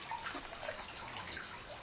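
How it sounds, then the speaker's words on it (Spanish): Soft running water flows steadily and evenly beneath a guided meditation, a faint continuous wash with no speech over it. "Estás oyendo el agua."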